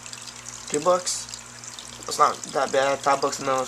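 A cleaned Top Fin aquarium filter sends a steady stream of water splashing out, running continuously at moderate level beneath someone talking.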